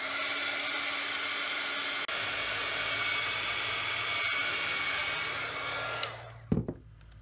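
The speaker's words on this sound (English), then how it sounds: "you can dry this with your heat gun" A heat gun dries embossing paint on a wooden craft palette, making a loud, steady close-up blowing whir that runs unbroken for several seconds, then clicks off with a few handling knocks.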